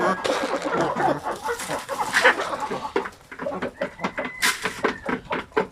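Chicken recovering from indigestion, giving repeated close clucks and soft vocal calls in an irregular rhythm, with some background voices mixed in.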